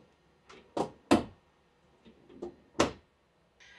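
Drawers under the sink in a travel-trailer bathroom slide open and shut, giving several sharp, close wooden knocks and thuds in an uneven sequence with quiet gaps between them.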